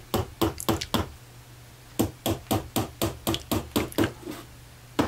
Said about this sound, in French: on ne se lasse pas des petits coups de marteau et du bruit dans l'atelier